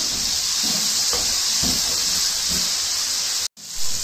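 Spices for an egg shami, namely salt, chili, turmeric, garam masala, black pepper and dried coriander, fry and sizzle in a pan with tomatoes, a steady loud hiss with faint soft knocks under it, cut off briefly near the end.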